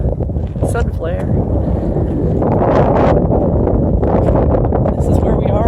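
Strong desert wind storm buffets the microphone in heavy, roaring gusts that swell and ease continuously, loud and close throughout.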